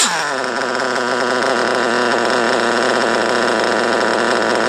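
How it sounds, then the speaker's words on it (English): A Kyosho RC car's modded .32 nitro engine runs slightly rich, holding a loud, steady, high-pitched buzzing whine close by with no pauses. "I'd rather run it a little over rich, just because I know this engine is screaming."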